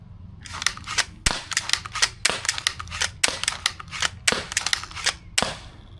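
A Steambow pump-action crossbow at 75 lb draw shooting arrows: a string of sharp, loud, close snaps at irregular intervals, with quieter clacks from the pump action between shots.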